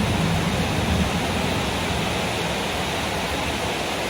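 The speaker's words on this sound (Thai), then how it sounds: "ฝนตกแต่ห้าโมง" Heavy, steady rain pours onto a floating raft during a long storm, a dense unbroken hiss that stays loud and even from start to finish with no voices.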